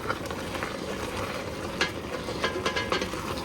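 Soft onions simmer in liquid in a pot while canning French onion soup, a steady bubbling sizzle throughout with a few light crackles and pops rising toward the end.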